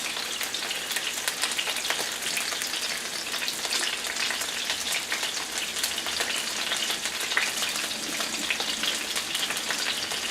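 Pork chops sizzle steadily in a pan as they brown, an even, rain-like hiss with fine spattering crackles that lasts throughout at moderate loudness.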